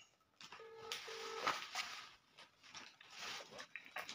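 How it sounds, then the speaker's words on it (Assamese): A telephone is dialed: a few short, clear keypad tones in quick succession near the start, over a noisy room background. "মই তেওঁক এতিয়া এটা ফোন কৰোঁ"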